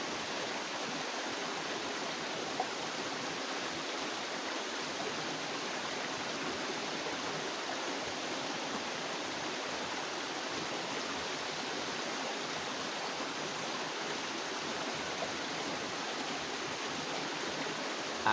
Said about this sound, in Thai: ล้างน้ำก่อน